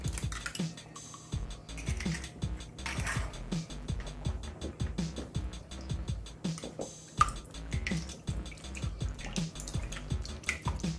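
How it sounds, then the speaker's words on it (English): Four eggs beaten in a bowl for orange bar custard, the whisk making quick, steady clicking taps against the bowl without pause, close and alone. "crack open 4 eggs in a bowl and beat them"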